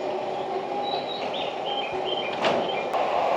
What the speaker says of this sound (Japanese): ここまで運んでくれた電車を見送り